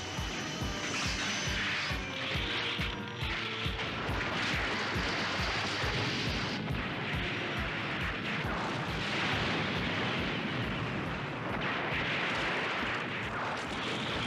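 Booming explosions and heavy barrage fire as the moon is destroyed in the anime Space Battleship Yamato II, a dense, continuous rumbling roar with repeated low thuds, loud and unbroken by speech.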